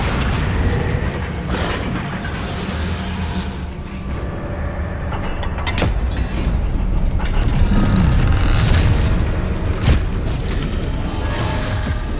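A Confringo blasting spell erupts in Hogwarts Legacy on PS5, a loud booming blast amid continuous dense game combat noise and rumble, close and sustained.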